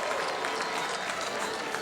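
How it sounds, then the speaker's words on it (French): Crowd applauding a dance performance at the foot of the red carpet steps at a festival, a dense, steady wash of clapping that holds evenly for the whole stretch with no pauses. "tout le monde qui applaudit cette performance"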